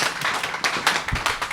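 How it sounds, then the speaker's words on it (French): An audience at an International Day of Peace celebration applauds for Steve with loud, close handclaps, uneven individual claps and thumps rising and falling over a second and a half, with no talking on top. "On peut applaudir pour Steve."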